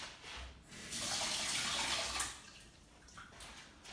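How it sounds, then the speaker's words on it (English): Water runs from a kitchen tap for hand washing, a soft continuous splash that swells for a couple of seconds and then eases, heard faintly and alone. "I'm just going to wash my hands."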